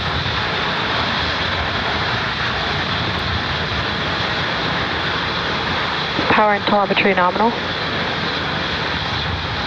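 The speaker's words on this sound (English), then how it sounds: "Falcon 9 has successfully lifted off from Space Launch Complex 40 at 8:50 a.m. Eastern Time." SpaceX Falcon 9 rocket engines roaring steadily after liftoff from Space Launch Complex 40 at Cape Canaveral, a continuous broadband rumble throughout, with a mission control voice briefly speaking over it.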